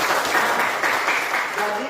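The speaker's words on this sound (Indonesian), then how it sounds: "Berikan tepuk tangan." Classroom applause from a group of students, steady dense clapping throughout, fairly close and sustained without a break.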